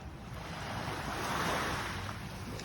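Steady surf washing onto a beach at Koh Samet, Thailand, a continuous broadband roar that swells slightly midway, with some wind noise on the microphone and no voices.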